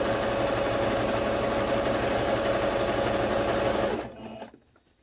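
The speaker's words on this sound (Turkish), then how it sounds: "İkinci dikişim de lastiğin bitiminden makine ayağını yerleştiriyorum." A sewing machine stitches the elastic waistband of a half-circle flared skirt, running in a steady, close mechanical whir for about four seconds before stopping abruptly, with no talking.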